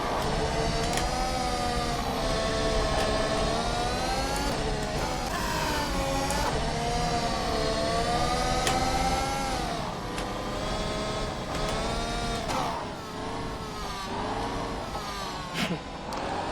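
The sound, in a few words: Ferrari engine in rFactor 2 racing video game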